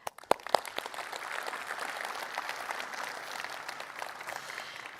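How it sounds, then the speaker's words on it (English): Conference audience applauding the sponsors, opening with a few separate sharp claps that swell into a steady, moderately loud wash of clapping lasting several seconds. "let's just give a lot of applause for our sponsors as well"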